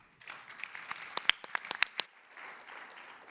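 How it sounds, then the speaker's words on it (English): Scattered applause from the audience at a startup competition semi-final as judges are welcomed, with soft clapping that swells into a burst of crisp, close claps midway and then thins out. "Let's give them a round of applause as I announce each one of their names."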